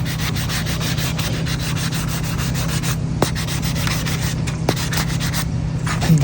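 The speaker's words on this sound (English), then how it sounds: "all this sponge is doing is just knocking it off" A sponge scrubbing mold off a wooden rocking chair, a continuous close-up rough rubbing with a steady low hum beneath and a couple of faint ticks.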